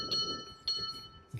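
The bell on an Urtopia Carbon 1 ST e-bike chimes in two clear, ringing strikes about half a second apart, fairly quiet against low road and wind rumble with no talk.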